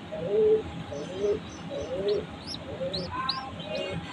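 Pigeons coo close by in a rhythmic series of soft, low throaty calls, with higher chirps from young pigeons joining toward the end.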